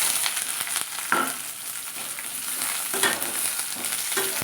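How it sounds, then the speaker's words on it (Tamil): Okra (vendaikkai) sautéing in hot oil in a pan gives a steady, close sizzle with soft stirring scrapes and a few sharper crackles, and no one speaks. "இதை கொஞ்சம் நல்லா ஒரு 2-3 நிமிஷத்துக்கு நல்லா வந்து வதக்கிக்கலாம்"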